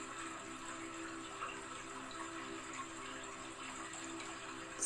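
A waterfall pours in a constant, even rush of falling water, a dense hiss that holds steady for the whole stretch with only slight swells and no talking.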